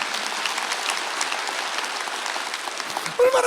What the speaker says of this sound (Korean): 믿는 사람만 박수하세요